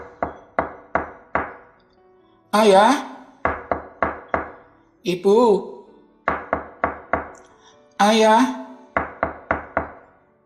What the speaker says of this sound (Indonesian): mengetuk pintu